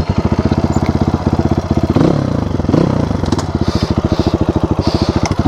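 A dirt bike engine idles with a fast, even putter, then revs up twice in brief surges before settling back to a steady throbbing idle, loud and close.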